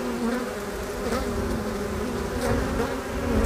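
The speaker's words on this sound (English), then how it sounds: "see if this really picks up the sound of the hive or not" A honeybee hive hums as a steady, dense buzz throughout, with a low drone and occasional louder passes of individual bees close by.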